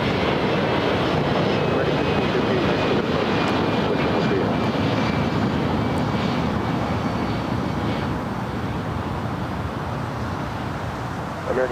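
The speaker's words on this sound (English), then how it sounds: "Norse, the Dreamliner, heading back to London Gatwick for the last time." Norse Boeing 787 Dreamliner jet at LAX, heard as a steady, loud, broadband engine roar that holds for the whole stretch with little change.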